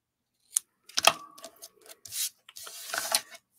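Scissors trimming the tails of a craft ribbon bow give a few close, quiet snips and rustles in short bursts, with silence in between and no voices.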